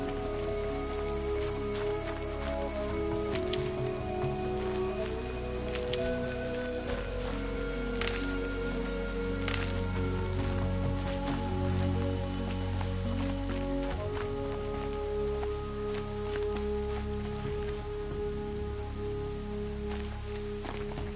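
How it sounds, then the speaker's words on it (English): Steady rain pours on surfaces in the video game Horizon Zero Dawn, a dense continuous hiss with a low rumble underneath and no talking. "More rain."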